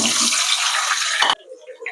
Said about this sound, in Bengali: চিকেনটা ম্যারিনেট করতে যে 15 মিনিট টাইম নিয়েছি সেই টাইমের মধ্যে আমি প্রথমে আলুগুলোকে ভেজে নেব।